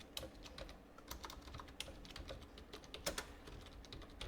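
Computer keyboard keys pressed one after another for an Excel shortcut, quiet irregular clicky taps close by, with no talk.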